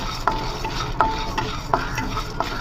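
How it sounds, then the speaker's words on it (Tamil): Fenugreek, cumin, pepper and dried red chillies dry-roast in a pan for tamarind rice powder, stirred in four evenly spaced scraping strokes with a quiet hiss between them, close and moderately soft. "இது எல்லாமே போட்டு நல்லா வறுத்துட்டு பவுடர் பண்ணிக்கலாம்."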